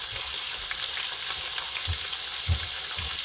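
Onions and seasoning fry in a pot for beef jollof rice with a continuous close sizzle, while a spoon stirs through them in a few soft, low scraping knocks.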